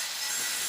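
A hand saw cuts into the corner of a wooden wheel for a rice planting marker tool, a brief loud rasping stroke of broadband grinding noise with no talking.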